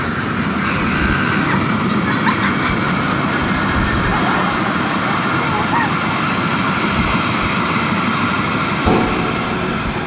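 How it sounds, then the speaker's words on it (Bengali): A train passes close by on a newly built rail line beside a house in Bangladesh, a loud, steady rumbling roar with faint rhythmic clatter sustained throughout, with no talk. "এই যে আবার ট্রেন আসছে"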